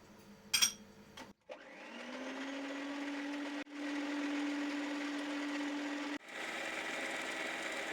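An electric hand mixer whipping egg whites as sugar goes in spoon by spoon for a layered cracker cake, a steady motor whine that starts and restarts after short pauses, with a brief clatter at the start.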